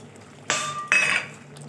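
A spoon clinks twice against a pan as poppy seed paste goes in with boiled potatoes, two short ringing metallic knocks close by over a quiet background.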